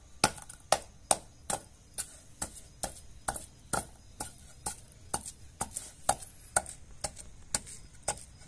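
Date palm jaggery (patali gur) is chopped by hand, about twenty sharp, evenly spaced strikes in a brisk, steady rhythm, close and crisp against a quiet background.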